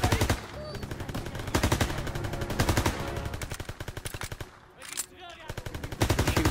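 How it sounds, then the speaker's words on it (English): Rapid bursts of machine gun fire from Call of Duty WW2 rattle loudly and almost continuously, with a brief lull before the shooting resumes. "Shooting the other direction"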